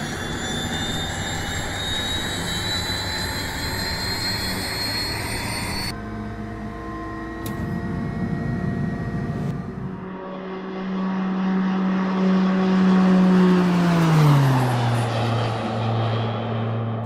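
Twin-prop aircraft engines in a flight simulator game hum and drone steadily, shifting from a bright whine to a deeper throbbing tone that rises in loudness then slides down in pitch, with no talking.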